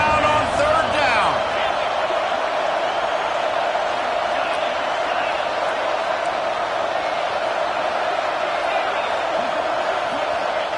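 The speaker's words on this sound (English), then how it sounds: "This crowd unhinged, trying to make sure the Gators don't back down on 3rd down." Florida Gators football fans roar throughout a stadium during an ASU game, a broad sustained crowd din with whoops, while a commentator talks over it at the start.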